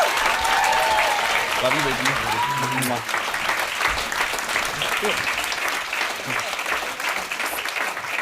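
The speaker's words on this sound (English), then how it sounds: "keep that applause going for Danez Smith!" Audience at a poetry reading in San Francisco applauds poet Danez Smith, loud sustained clapping with whoops and cheers, while voices call out and speak over the crowd.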